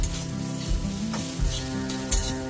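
Water poured onto frying semolina over medium heat, setting off a loud, close, steady sizzle with bursts of hissing and stirring scrapes, no voices.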